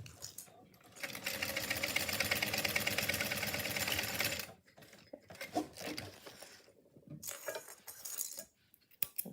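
A sewing machine bastes down the raw edge of a bag, a close, fast, even whirring stitch run lasting about four seconds, followed by shorter stop-start bursts and handling clicks.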